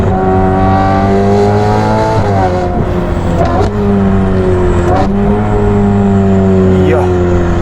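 A Ferrari F8 Tributo with a Novitec exhaust revs loudly from inside the cabin, its engine note climbing through sustained tones with several sharp shifts and dips in pitch.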